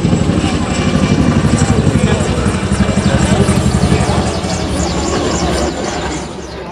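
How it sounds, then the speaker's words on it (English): A helicopter passes loudly overhead along the Boston waterfront, its rotor beating in a steady rapid throb that eases slightly toward the end, with a person talking over it. "Go overhead, we do have a full helicopter coming in."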